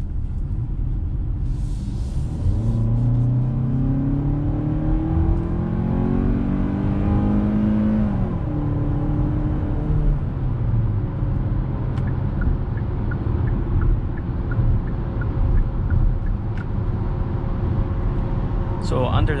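A 2022 Hyundai Tucson SEL with a 2.5-liter naturally aspirated four-cylinder and eight-speed automatic pulls away and drives, its engine tone climbing through gears then settling into a steady cabin hum and road rumble.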